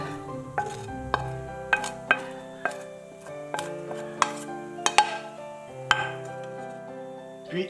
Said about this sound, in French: Puis, hors du four, je mélange le tout jusqu'à obtenir une texture bien homogène.